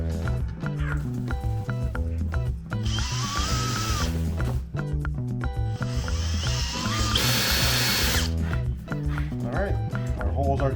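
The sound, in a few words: power drill drilling holes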